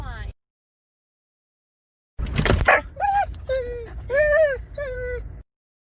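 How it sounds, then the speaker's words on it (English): Dogs riding in a car whimper and yelp in a run of close, high, wavering cries, with one harsher bark-like burst at the start, after a brief sound and a pause of quiet. "Barks at cars."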